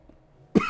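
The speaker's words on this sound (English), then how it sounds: "More potato chip coughing." One short, close cough erupts after a near-silent pause, a sharp single burst with no talk around it.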